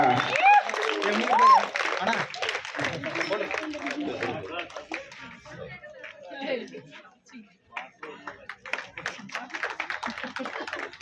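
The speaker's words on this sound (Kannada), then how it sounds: "ಅವರಿಗೆ ಎಲ್ಲರೂ ಚಪ್ಪಾಳೆ ಮಾಡಿಸುವುದರ ಮೂಲಕ" An audience claps for the first-place winner of a rangoli competition at a Katharaki 2024 event, with dense, sustained applause running through the whole stretch while a voice speaks over the start.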